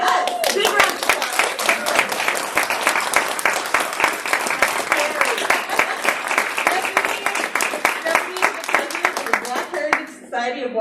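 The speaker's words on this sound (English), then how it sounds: "MC, yes, big round of applause." An audience at a program applauds the MC being introduced, with loud, close clapping from a smallish crowd that runs steadily for about ten seconds before stopping abruptly, with some voices mixed in.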